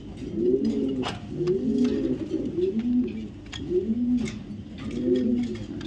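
Racing pigeons of club racer stock coo in repeated throaty phrases, a steady rolling cycle of soft murmuring calls close by, with no talk over them.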